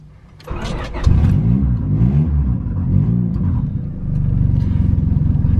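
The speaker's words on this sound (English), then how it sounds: "on a cold start, I gotta kind of rev it up a little bit and then bring it back down slowly, or else it'll turn off" A turbocharged D16 Honda Civic cranks and catches on a cold start, then revs up and down in loud, rumbling waves before settling into a lumpy, pulsing idle close by.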